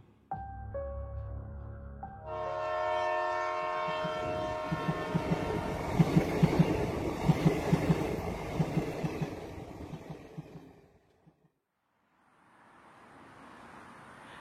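A train horn blares, then a train rolls past with loud rhythmic clickety-clack, fading out near the end before faint ambience returns.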